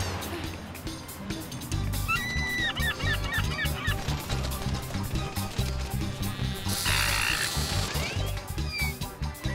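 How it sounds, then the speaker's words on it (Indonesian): A cartoon seagull calls in a series of squawking, honking cries over busy background sound effects, loud and close. "Itu burung camarnya."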